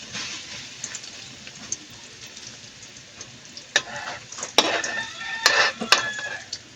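Kangkong fries in a pan with a steady sizzle that swells toward the end, joined by scraping and clinks of a utensil against the pan, all close by.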